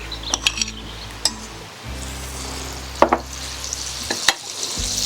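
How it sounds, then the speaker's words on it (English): Oil and butter warm in a saucepan, giving a low steady sizzle with occasional clinks and stirring scrapes close by, no voices. "What I'm going to do is just put a little bit of oil and some butter into the saucepan."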